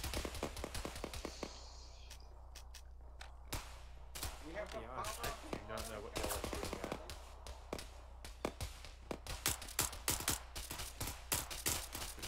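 Rapid bursts of MP7 submachine gun fire in the video game ArmA 3, sharp cracks repeating in quick strings throughout with other shots mixed in, loud and close, while players talk over the gunfire.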